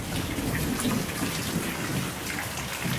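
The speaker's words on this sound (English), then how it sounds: "is this really thunder?" Heavy rain pours steadily outdoors during a tornado-watch storm, with a dense continuous hiss and low rumbling thunder beneath, loud and close throughout with no voices.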